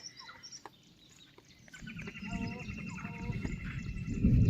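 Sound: various birds calling

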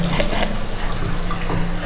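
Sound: washing hands under running tap water

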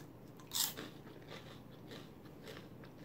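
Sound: crunching sweet garlic corn chip

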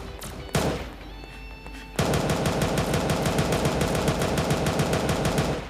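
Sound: gunfire in a shooting video game

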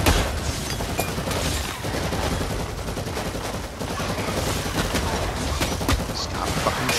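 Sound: gunfire in Warhammer 40k Eternal Crusade video game

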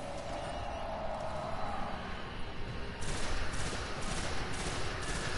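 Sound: gunfire from the video game Destiny

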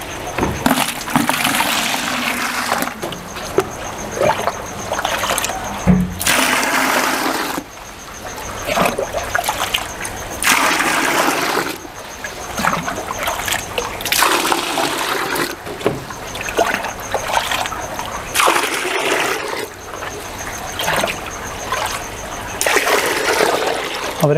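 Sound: water poured from fish bag into aquarium tank

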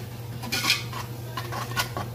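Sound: stirring onions in a pot for French onion soup

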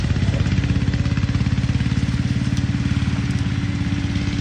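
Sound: tractor engine running

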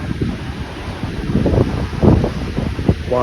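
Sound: wind and rough sea waves at a beach after Cyclone Ditwa

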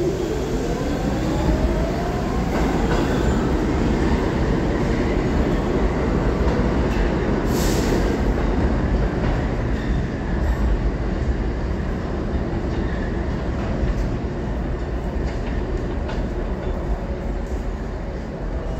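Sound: New York subway C train approaching 34th Street station

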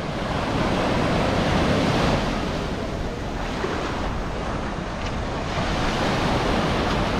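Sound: waves of the rising tide at Boa Viagem beach, Recife

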